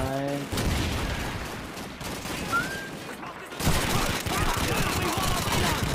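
Sustained MG-42 machine gun fire in the video game Call of Duty 2: a dense, continuous rattle of rapid shots mixed with other battle noise and voices, with a short break partway through.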